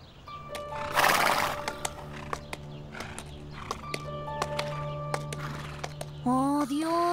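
A horse neighs loudly near the start, followed by snorts and hoof clip-clops, with a voice briefly speaking near the end.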